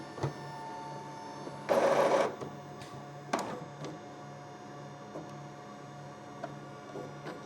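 An Epson printer being switched off and on in a quiet room gives a brief mechanical whir and rattle, then a sharp click and faint ticks over a low steady hum.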